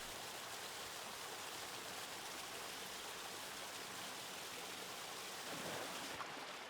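The waterfall at Waterfall Cove on a red crab island roars as a steady, broad wash of falling water, continuous and fairly close, with no voices.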